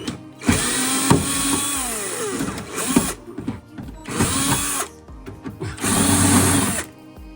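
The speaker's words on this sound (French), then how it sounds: "je n'ai plus que normalement qu'à bloquer mon écrou derrière, à dévisser ici." A power tool unscrewing stainless steel bolts on a 1999 Lotus Elise S1 chassis during anti-roll bar fitting gives three loud close whirring bursts, each lasting about a second or two, with clanks and rattles in the pauses between.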